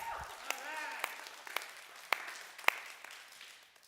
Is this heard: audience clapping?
yes